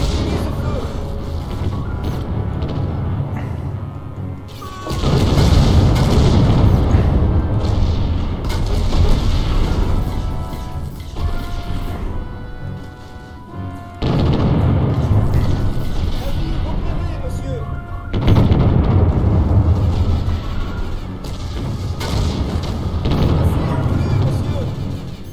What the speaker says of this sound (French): Ça commence les tirs déjà